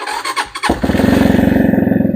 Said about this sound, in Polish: Zobaczcie, łapię sprzęgło, wciskam zapłon